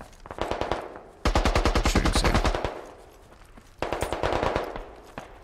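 Gunfire in the military shooter video game Squad: two long, loud rapid bursts of automatic fire with a few single shots before them, each burst ringing out and fading.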